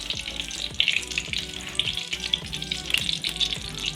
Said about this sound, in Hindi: इसको मैं अब फ्राई करके आपको दिखाती हूँ फ्राई करते हुए।